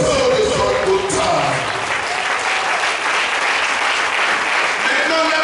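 A church congregation breaks into loud, sustained applause and cheering during a worship service, a dense wash of clapping that holds steady throughout with crowd voices mixed in.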